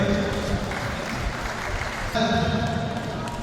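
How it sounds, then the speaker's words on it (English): An audience at a boxing promotion event in Bohol applauds the two boxers in the ring, a sustained crowd clapping under an announcer's amplified voice. "let's give a round of applause to our two boxers inside the ring"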